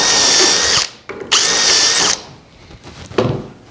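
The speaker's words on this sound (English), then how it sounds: "And now this time we drill 1 and 2." A power drill bores holes into the wooden rail of a bedroom dresser's mitered rail top, running in two loud, steady whining bursts separated by a short pause, then a brief quieter spin-up at the end.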